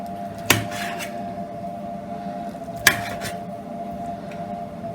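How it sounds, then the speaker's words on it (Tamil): A knife cuts through boiled, cooled goat blood, giving two sharp clinks against the dish about two seconds apart over a low, steady kitchen hum. "அதுக்குள்ளே நம்ம கத்தியில் கட் பண்ணிக்குவோங்க."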